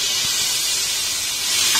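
Tomatoes sizzle in hot ghee in a pressure cooker for chicken biryani, a steady close, loud frying hiss that runs unbroken throughout the short stretch.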